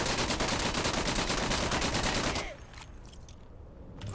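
Rapid, loud gunfire from the World War II shooter Day of Infamy, likely including a Luger pistol, fills the first two and a half seconds as dense overlapping shots, then drops away to quieter battlefield ambience with a few distant pops.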